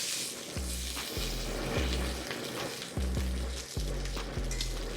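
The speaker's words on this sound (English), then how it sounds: "I'm gonna quickly sear the sides, just kind of lock it in." Japanese A5 Wagyu steak sears on its sides in a hot pan, giving a steady close sizzle with a few soft bumps as the meat is turned. A low, even hum runs underneath, and no one speaks.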